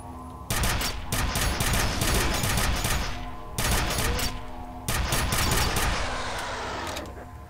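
Sustained rapid automatic gunfire in the shooter game F.E.A.R., loud and close, in long bursts with brief pauses between them and no talking over it.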